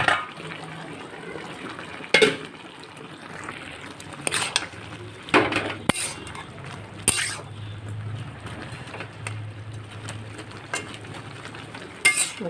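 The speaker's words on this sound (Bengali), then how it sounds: "এখন ফুটে গেছে, এবার এর মধ্যে আমি ভেজে আর ধুয়ে রাখা এই যে মুগের ডালটা দিয়ে" Fried and washed moong dal tipped into a boiling pot of pumpkin stems and greens, with bursts of sizzling and stirring clatter, several sharp scrapes against the pot, and a low bubbling between them.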